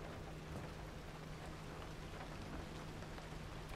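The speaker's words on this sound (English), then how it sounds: "It's raining." Rain falls in the video game Pacific Drive as a faint, steady wash of rainfall with a soft low rumble underneath. It stays quiet and unbroken throughout, with no speech.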